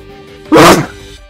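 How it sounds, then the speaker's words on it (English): A single loud, abrupt human sneeze close to the microphone, a short explosive burst standing out over a quiet background. "Stop sneezing, you piece of shit nose."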